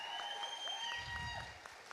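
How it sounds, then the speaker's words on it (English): Applause from an audience at a township awards ceremony, a steady wash of clapping under a tonal sustained background, with a couple of sharper claps near the end. "Keep the claps going."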